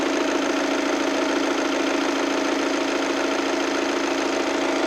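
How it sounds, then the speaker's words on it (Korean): A Volkswagen Tiguan diesel engine idling steadily with the hood open, a constant close rumble with a faint knocking clatter, no voices over it. "그냥 딱 디젤 엔진 정도의 소음이라고 생각을 하시면 될 것 같고요"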